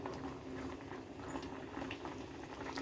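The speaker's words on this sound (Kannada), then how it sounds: "ಕುದಿಬೇಕು" Sambar with prawns simmers in a pot, giving a quiet, continuous bubbling and popping that stays steady throughout.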